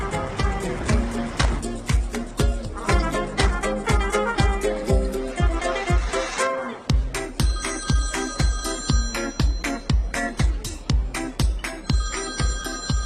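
A mobile phone rings with a repeating electronic ringtone, a fast steady pulse of bright tones that switches to a different melodic pattern partway through, loud and alone with no talking.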